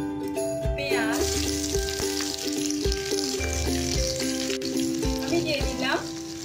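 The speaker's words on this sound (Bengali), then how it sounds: "ওই গরম তেলের মধ্যে আমি এখন দিয়ে দিই স্কোয়ার করে ছোট ছোট করে কাটা পেঁয়াজ।" Chopped onion, cut into small squares, sizzles loudly in hot oil while chilli chicken is cooked, with a steady frying hiss, metallic stirring clinks and utensil knocks, and a person talking over it.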